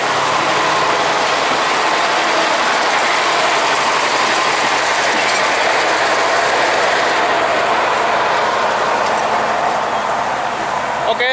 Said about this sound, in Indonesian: ini masih ada lokomotif yang mau keluar. Lokomotif Hokuriku nomor 16.